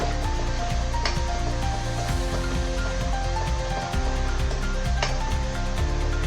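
Ginger, garlic and green chili paste sautéing in a pan, a dense steady sizzle with occasional scraping knocks from stirring, fairly loud throughout.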